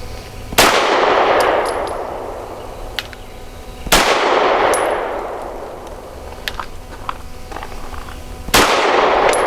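Walther PDP 5-inch Compact pistol shots ring out one at a time, three sharp loud cracks a few seconds apart, each trailing off in a metallic ring, with faint clinks between shots.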